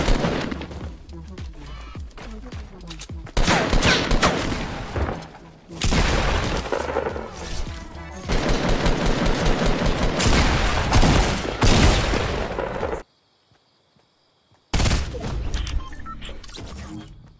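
Heavy bursts of gunfire and explosive booms from a weapon in Fortnite roll on loudly for long stretches. Game audio and voices are mixed in, and there is a near-silent gap before the firing resumes.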